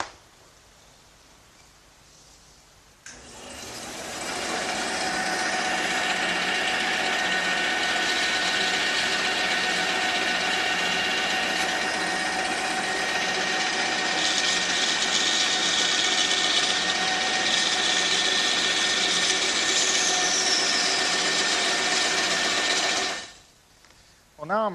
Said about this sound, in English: the first thing I'm going to do is cut these pieces on the bandsaw